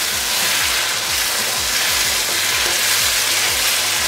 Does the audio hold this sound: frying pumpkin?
yes